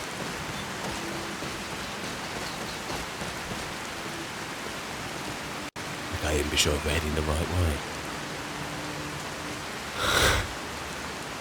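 Steady rain pours in the game Skyrim as a broadband hiss that runs through the whole stretch, with a character speaking over it partway and a brief louder splash or rumble near the end.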